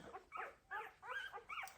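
A puppy from a litter gives four short, high yelping barks and whimpers in quick succession, close by and fairly faint, with no voices.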